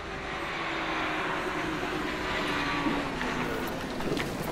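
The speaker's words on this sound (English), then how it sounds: "There's an helicopter coming right over me. It's like 20 feet over top of me." A helicopter passes low overhead, about twenty feet up, above a racer during an off-road desert race in Baja: a loud, steady, rushing engine and rotor roar fills the whole stretch without letting up.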